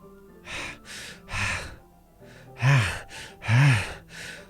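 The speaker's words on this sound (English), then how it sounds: "A sharp inhale, like someone is sucking the air through their teeth." Sharp breathy inhales, like air sucked through clenched teeth, from a Doki Doki Literature Club school-hallway scene. Several loud, close breaths arrive in an uneven rhythm with short gaps between them. No speech.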